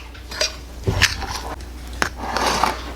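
Protein powder mixed with a little milk, stirred in a bowl into a thick pudding-like texture: close spoon scrapes and clinks against the bowl over a few seconds, with soft wet mixing sounds and no talking.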